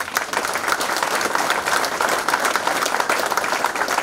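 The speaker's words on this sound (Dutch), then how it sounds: "een hartelijk applaus" An audience at a motor racing team presentation at Circuit Zandvoort applauds to welcome a racing driver, dense, loud and continuous clapping throughout.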